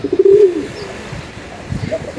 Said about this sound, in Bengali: কবুতরের শব্দটা অনেক ভালো লাগে, কি সুন্দর বাকবাকুম করে